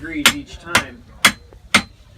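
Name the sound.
hammer forge-welding heated iron pieces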